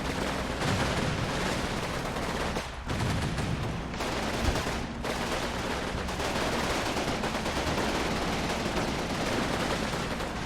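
Sustained automatic gunfire raking a house in Combat Mission: Battle for Normandy, dense continuous bursts and booming impacts over about ten seconds with brief gaps, loud and close.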